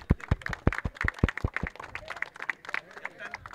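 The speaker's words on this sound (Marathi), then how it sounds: "सर्वांनी जोरदार टाळ्या वाजवा." Claps ring out during a school cricket league prize ceremony, a quick run of sharp, separate hand claps that thins out as people begin talking over them.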